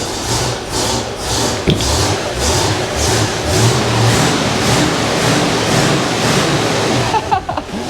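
A 1967 Chevelle's 283 V8 engine runs loudly and steadily close by, with a low rumbling drone and a few brief revs.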